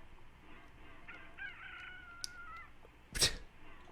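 A cucco chicken in a Zelda video game gives a drawn-out, rising cluck and crow, followed by a sudden loud squawk near the end, with no talking.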